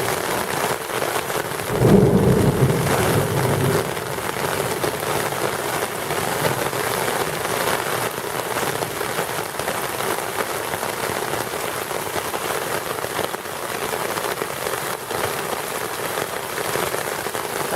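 Heavy rain pours steadily onto a street in Cuernavaca, Mexico, a loud, dense and continuous hiss with a brief low rumble early on, and no voices.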